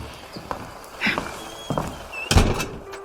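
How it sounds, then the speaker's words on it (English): A door closing indoors, with a few short thunks and sliding knocks building to one louder final bump, close by and with no talking. "Please close the door"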